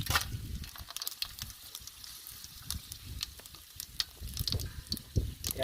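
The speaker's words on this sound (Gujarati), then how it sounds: "તો ચાલો મિત્રો, હવે આપણે જે વઘાર મસાલો લીધો એ નાખી દઈએ." Tempering spices drop into hot oil for an eggplant curry, giving a fast crackling sizzle with sharp scattered pops, close and fairly quiet, without voices.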